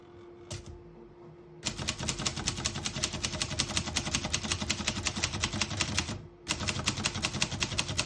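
Rapid, steady keystrokes clatter on a 1960s Antares Parva ultra-portable manual typewriter, close and crisp, running in a long even burst, briefly pausing, then resuming at the same brisk pace.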